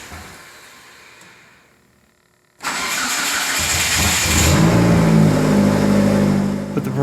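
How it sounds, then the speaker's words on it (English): A 31-year-old Hyundai Elantra with 1200cc injectors and E85 fuel cranks and fires up after an injector swap, catching suddenly into a loud, close engine roar that builds and settles into a steady rough idle. "it's probably not going to fire right up, but we'll see"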